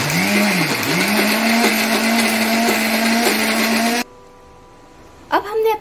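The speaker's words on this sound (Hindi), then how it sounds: "तो हम मिक्सी में फिर से चटनी को पीस लेंगे।" Mixer grinder blending onion chutney, a loud steady whirring hum that runs for about four seconds, then cuts out and briefly restarts near the end.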